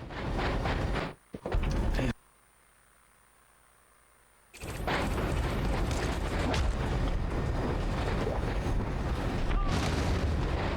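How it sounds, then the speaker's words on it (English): A stun grenade goes off in the Enter the Matrix video game: a loud boom at about one second and another near two seconds, then near silence, then dense, loud game noise resumes. "What do you think will happen if you use the stun grenade during the agent fight?"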